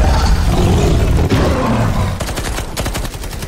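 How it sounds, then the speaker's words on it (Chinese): Rapid automatic gunfire in a Halo TV series battle, loud bursts crackling in quick succession after a heavy rumbling roar, with no voices. "士官长开枪反击，可子弹根本没用"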